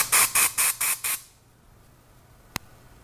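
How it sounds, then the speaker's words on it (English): Five short, sharp bursts of dry shampoo aerosol spray hiss in quick succession, close and loud, followed by quiet and a single brief click. "And you just spray."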